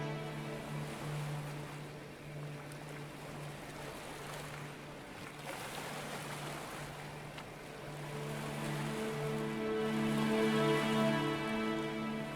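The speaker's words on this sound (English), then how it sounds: "Whoa, that was a large wave that came out of nowhere. It's just bashing against these lifeboats." Large ocean waves crash against lifeboats in the Stormworks video game: a continuous broad rush of water and surf swelling louder toward the end, with a steady low engine-like hum running beneath it and no talking.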